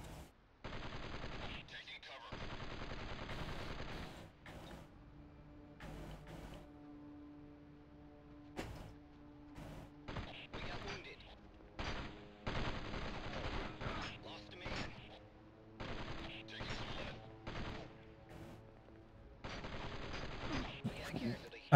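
Gunfire crackles through a PlayStation video game in repeated bursts and rapid volleys, some close and loud, others sharper single shots, with brief lulls between exchanges.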